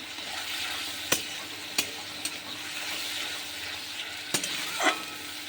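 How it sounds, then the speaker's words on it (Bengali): Onion and tomato fry in a pan for a hilsa fish curry, with a steady soft sizzle broken by a few sharp spoon knocks against the pan as they are stirred. "পেঁয়াজ আর টমেটোটা বেশ ভালো করে একটু ভেজে নিতে হবে"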